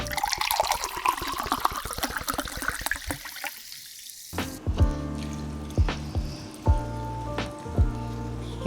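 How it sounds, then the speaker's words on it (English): Milk, three cups of it, pours into a pan of country-fried chicken steak gravy in a steady trickling stream for about four seconds, then gives way to scattered close clinks and bubbling from the pan. "Then our milk. And we're gonna do 3 cups of milk."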